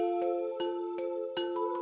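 A bell chimes repeatedly at a memorial lie-in for 32 victims, with sustained ringing tones and about six distinct strikes spaced unevenly over two seconds, clear and fairly close.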